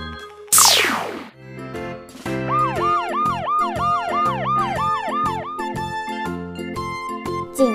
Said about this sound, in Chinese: 警车